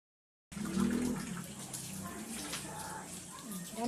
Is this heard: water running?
yes